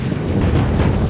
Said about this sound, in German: Ganz schön windig hier vorne.